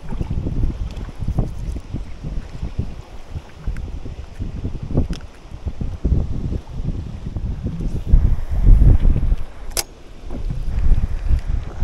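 Strong wind buffets the microphone on Pien-Saimaa lake during autumn perch fishing from a boat, a loud continuous rumble with gusting surges and occasional knocks of gear against the hull.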